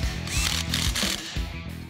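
A ratchet clicks in several quick runs as the differential bearing cap bolts on a DJ5 Jeep are snugged down. The close, crisp pawl clicks come in short bursts with brief pauses, and no one talks.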